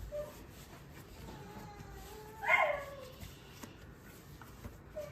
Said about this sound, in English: he's barking. He wants out of his crate because people are going for a walk outside.